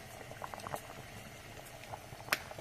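Chicken gravy simmering in a pot with poppy seeds, cashew and sesame powder, bubbling softly in small irregular pops and plops, close and quiet with no talking.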